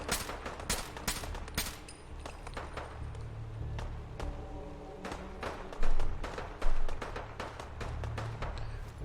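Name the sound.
gunfire in Fallout 4 video game, 5.56 rounds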